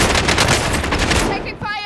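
Dense automatic gunfire in a Verdansk battle royale video game, a loud, close, continuous burst of rapid shots that breaks off near the end, with a voice faintly under it.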